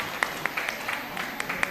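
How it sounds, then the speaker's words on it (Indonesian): Scattered, sparse hand claps from a small audience at a live debate-watching event, a few sharp claps spread over under two seconds against a low room hiss. "Tahu tepuk tangan, ayo mana suaranya?"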